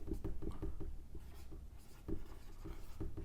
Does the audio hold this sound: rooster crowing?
no